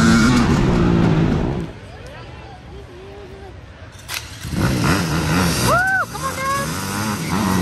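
Off-road racing vehicles launch at the start of a Mag 7 Off-Road Racing Series race, the Swamp Rat GP. Engines roar loudly, drop back briefly, then surge again with sharp rising revs, and a voice is heard underneath.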